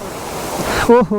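Nagarkot waterfall in Muhanpokhari, Nepal, a steady broadband rush of falling water heard from nearby, continuous throughout with a brief voiced exclamation over it at the end.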